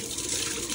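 Water sprayed to rinse out the inside of a pigeon's water container, a short steady hiss of running water, fairly loud and alone.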